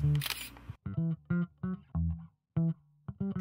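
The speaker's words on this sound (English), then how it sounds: "Press the shutter all of the way down to take the picture." A Canon 30D digital SLR makes a burst of short, crisp mechanical clicks in a quick uneven series after an initial whir, close and isolated.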